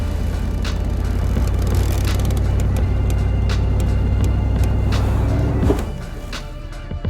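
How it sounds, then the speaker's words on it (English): A Chevrolet Suburban engine hums low and steady while the truck pushes a damaged Chrysler van, with faint clicks and clunks over the drone until the engine note drops near the end. "Can the Suburban push the wounded Chrysler van?"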